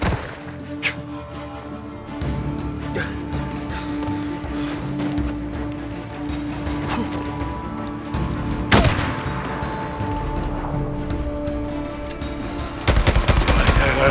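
Sniper gunfire rings out during an ambush in Days Gone, with sharp isolated cracks and bursts of shots scattered over a rumbling outdoor backdrop.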